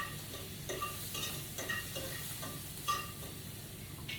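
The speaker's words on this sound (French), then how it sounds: "Je vais mélanger" Food stirred in a pan while cooking, a spoon scraping and clicking in an irregular rhythm over a steady low background hiss, close and moderately quiet.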